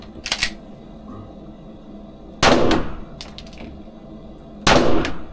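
Gunfire at an indoor shooting range: three sharp, loud, separate reports about two seconds apart, each with a short echoing tail in the enclosed space, between quiet gaps.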